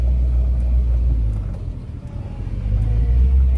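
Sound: passing car

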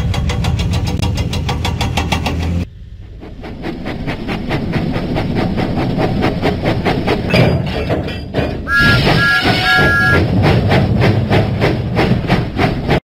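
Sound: Thomas the steam engine puffing, from a video game

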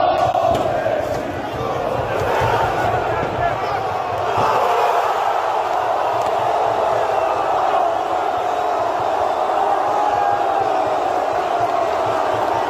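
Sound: Beşiktaş fans chanting in stadium stands

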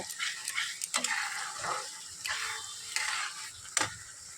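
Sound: frying potatoes with onion in a pan

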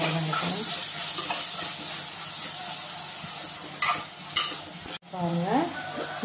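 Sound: tomatoes sautéing and sizzling in a pan for mushroom biryani

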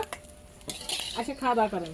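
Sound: utensils clinking while lifting fried beef from pan

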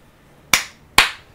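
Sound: clapping

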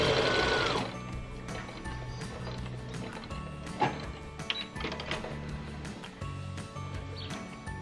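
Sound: sewing machine stitching a test line on quilt layers

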